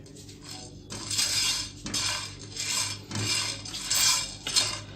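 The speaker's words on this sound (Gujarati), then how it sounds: "હવે આપણે આને અપ્રોક્સ 2 મિનિટ્સ માટે ડ્રાય રોસ્ટ કરશું" Whole fennel seeds and black peppercorns dry roast in a pan over a medium flame, rattling and scraping in repeated bursts of stirring, close and fairly loud with no talk.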